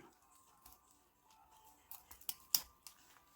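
Packaging layers are peeled back while a ten-ounce silver bar is unboxed, soft crinkles and faint scrapes giving way to a few sharp crisp tearing snaps near the end, quiet and close.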